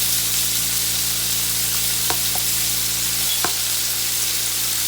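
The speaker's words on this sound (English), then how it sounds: "get it spread it out around the pan. Brown it off real nice" Strips of ribeye steak brown in a hot pan with a loud, constant close sizzle and a few faint clinks of stirring, no talk.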